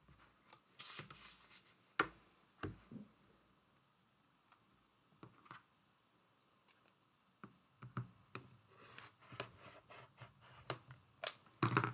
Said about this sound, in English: The bigger block, we're going to make 2 cuts. We're going to cut the first corner to corner.